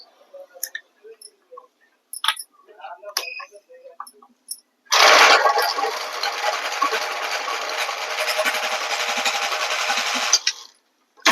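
A sewing machine stitches cloth for a tailored garment in one loud, steady whirring run of about five seconds. Before it, a few faint scattered clicks and handling noises are heard, and the run ends abruptly.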